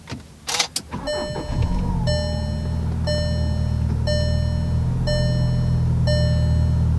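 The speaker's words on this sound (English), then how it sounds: "just on initial startup, I will say that the rumble from the motor is a little bit louder" A car door thuds, then a Volkswagen Tiguan engine with the turbo inlet and turbo muffler removed turns over and settles into a steady, rumbling idle while a chime beeps at regular one-second intervals.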